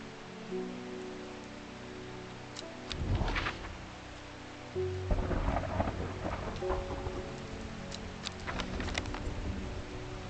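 Rain with rumbling thunder on a rainy day in the video game Strange Horticulture; a steady rain wash swells as a low rumble rolls in midway, with scattered crackles and drops continuing alone.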